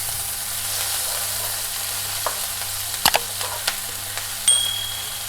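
Cumin, ginger paste and chilli pieces sizzling in a spoonful of hot oil in a pan, a steady low hiss with a few sharp metallic taps from stirring.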